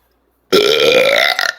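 A single loud, close burp starts abruptly and rises slightly in pitch over about one second before breaking off, with no talking.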